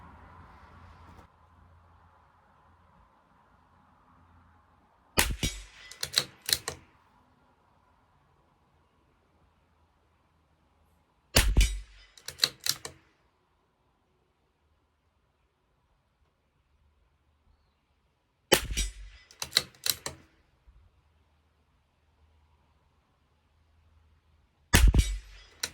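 Shots from a CZ 457 rimfire rifle on a 50-yard range, fired in four separated bursts of sharp cracks with quiet pauses between, close and loud against a faint background.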